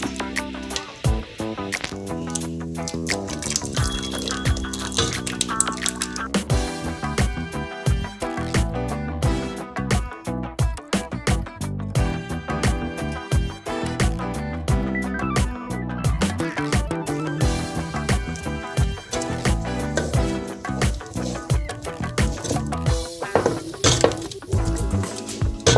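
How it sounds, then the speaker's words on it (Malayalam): Fruit custard is poured bit by bit into a pan and stirred, giving busy clinking and scraping from a spoon against the pan with soft liquid sloshing. It runs continuously and fairly loud throughout. "ഇനി ഇത് കുറേശ്ശെ ഒഴിച്ച് നല്ലതായിട്ട് ഇളക്കി കൊടുക്കണം."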